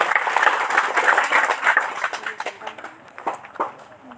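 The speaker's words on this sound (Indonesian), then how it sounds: "Kita tepuk tangan untuk beliau." Applause from an audience at a school foundation gathering, loud clapping early that thins and fades into scattered claps toward the end.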